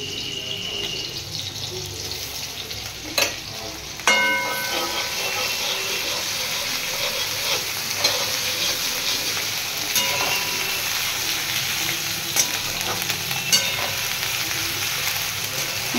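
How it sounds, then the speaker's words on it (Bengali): Tomato and ginger paste fries in oil tempered with cumin seeds in a pan, giving a continuous close sizzle that grows louder as the paste goes in, with occasional utensil clinks. "দেখো জিরে ফোড়ন দিয়ে টমেটোটা দিয়ে দিয়েছি, এবার এই আদা বাটাটা দিয়ে দেবো।"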